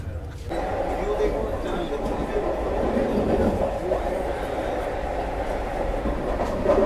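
The Vande Bharat Express on the Katra–Srinagar line passes Reasi station and rumbles steadily along the rails in a continuous, fairly loud roar heard from inside the train, while people talk over it.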